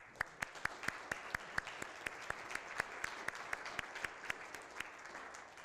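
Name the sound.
audience applause at community meeting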